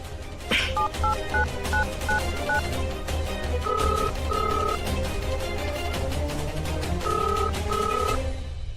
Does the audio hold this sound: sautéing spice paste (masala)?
no